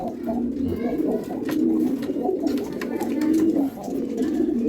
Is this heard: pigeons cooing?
yes